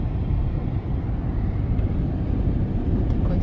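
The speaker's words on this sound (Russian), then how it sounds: "Вот такой сильный ветер." Strong wind roars in a dense, steady, loud rush with constant low buffeting and no pauses, at a shore where sand is blowing and the water has turned grey.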